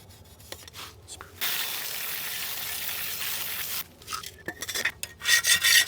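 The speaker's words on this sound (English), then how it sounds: "one little last scrub across the top of the cooking surface" Scrubbing the cooking surface of aluminum GrillGrates, a broad rough scouring swish held for a couple of seconds, then short choppy scrub strokes, close and fairly loud.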